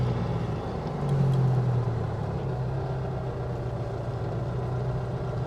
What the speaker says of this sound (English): there is something magical about the sound of a Volkswagen engine